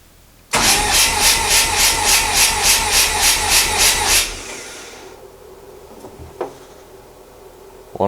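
A rotary engine's starter cranks the motor for a front-rotor compression test, a loud, close, steady rhythmic pulsing lasting several seconds before it stops abruptly, followed by quiet clicks and handling noises.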